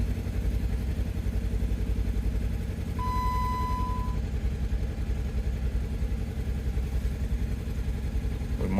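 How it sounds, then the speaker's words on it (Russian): A car engine with a generator problem idles roughly after a poor start, misfiring with an uneven, chugging pulse that runs steadily and close throughout, joined briefly by a thin whistling tone. "Да, двигатель троит прям."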